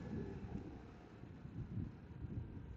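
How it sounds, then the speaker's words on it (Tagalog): Strong wind buffets the microphone in a continuous low rumble, with gusty surges rising and falling. "lakas ng hangin ngayon ah."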